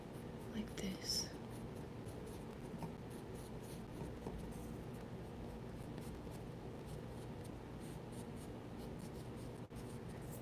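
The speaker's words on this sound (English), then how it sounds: "when we blend the orange and the hot pink" A paper blending stick rubs orange and hot pink pastel on paper in soft, continuous scratchy strokes, close and quiet, with faint whispering underneath.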